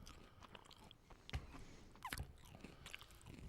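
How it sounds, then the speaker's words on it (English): Close-up, wet chewing of hash browns right into a microphone, with soft lip smacks and a couple of sharper crunchy bites, quiet and uneven, and no talk over it. "Now I gotta listen to you slapping your lips in the headphones."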